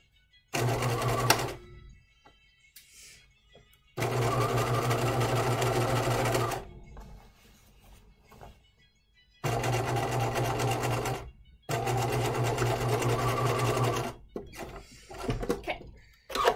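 A sewing machine top-stitches a sleeve hem on a hanten jacket mockup, running in four loud, steady bursts of rapid stitching separated by quiet pauses and faint handling of the fabric.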